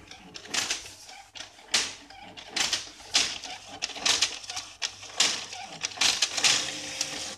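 A printer pulls in a sheet of clean paper fed into its input to clean the bottom plate, giving repeated mechanical clacks and whirring feed bursts, fairly close and steady throughout.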